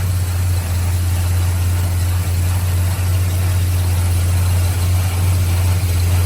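A 1973 Plymouth Road Runner engine idles steadily and loudly up close, a constant low rumbling hum with an even throb and no voices.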